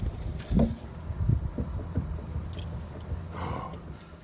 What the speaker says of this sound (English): Shake the loose wheel.